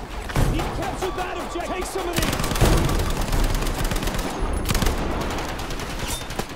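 Rapid machine-gun bursts and scattered rifle shots crack through a Battlefield V match on Iwo Jima. The fire is loud and sustained, with close shots and thumps over constant battle noise.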